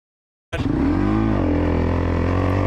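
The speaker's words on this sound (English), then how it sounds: "I think this has been our most requested vehicle to stud the tires and take it on the ice, Yamaha R6" A Yamaha R6 sport motorcycle on studded tires revs hard on ice, a loud, close engine roar starting abruptly and holding steady, pitch rising then settling for about two seconds.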